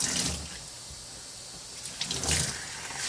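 Water from a tap runs and splashes steadily over a Cabbage Patch Kid doll being washed, with brief surges of louder gushing, close and fairly quiet.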